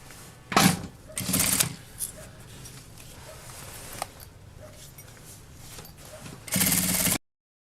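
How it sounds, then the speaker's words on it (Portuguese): A sewing machine stitches a seam around the opening of a small fabric bag, running in a few short bursts of whirring with quiet pauses between. "a gente vai passar uma costurinha na beiradinha. Em toda a volta aqui da boca da nossa bolsa."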